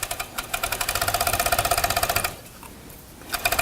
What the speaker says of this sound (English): And then I'm gonna just go ahead and start stitching.